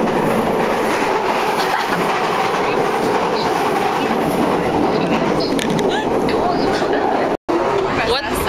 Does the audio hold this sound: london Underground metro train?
yes